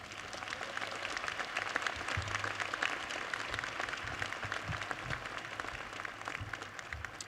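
An audience at a City College of Technology commencement applauds the student trustee and Vice Chancellor, dense steady clapping from a large crowd filling the hall throughout.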